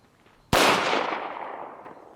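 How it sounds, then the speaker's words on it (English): A single 9mm 115 grain full metal jacket round fired into a concrete block: one sharp, loud crack that rings and decays over about a second and a half, with no voices. "first up we're going to try the 9mm 115 grain FMJ"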